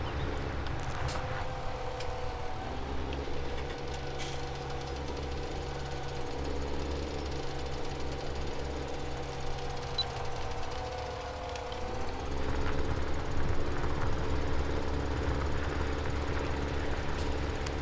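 A tractor ploughing a field in Farming Simulator 17 gives a steady, loud, low engine drone with a constant hum, easing briefly near twelve seconds and then swelling a little louder.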